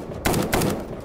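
Two sharp gunshot bursts cut through a narrated war story about firing on soldiers at a camp, each a loud broadband crack with a short tail, spaced about a quarter second apart, over a steady low background.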